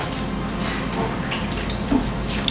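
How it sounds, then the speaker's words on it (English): Filtered water pours steadily into a bowl of flour and sourdough starter for a purple pizza dough, a continuous close splashing trickle with a couple of brief drips near the end. "2/4 cups of water. I do filtered water, it's just better."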